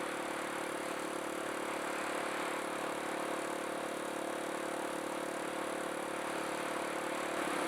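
A Kawasaki KLX170 big-bore dirt bike, rebuilt from a KLX140 and ridden during break-in, cruises through a neighborhood in mid gear with a steady, continuous engine drone and wind noise throughout.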